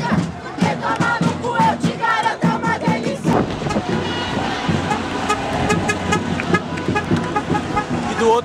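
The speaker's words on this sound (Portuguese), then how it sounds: "os motoristas que seguem no sentido contrário da Paulista, buzinam e demonstram apoio à manifestação." Drivers on Avenida Paulista in São Paulo honk car horns in support of a passing street protest, sounding repeated toots over a dense crowd roar and traffic noise.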